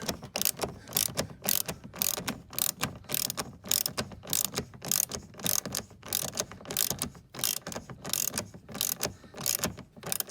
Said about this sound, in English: use a 10mm socket to snug it up